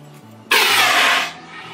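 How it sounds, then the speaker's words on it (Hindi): Dry ice bursting from an opened nozzle, a loud hissing blast of gas lasting under a second before tapering off, over a steady low background hum. "अगर हम इसके नोजल को खोलते हैं तो इसके अंदर से निकलती है ड्राई"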